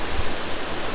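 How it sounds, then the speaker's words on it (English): Fast-flowing mountain water rushing through the Sigmund Thun gorge in Kaprun, Austria, a steady, loud, broadband roar that fills the whole moment without pause. "through the fast flow of the water down the mountain."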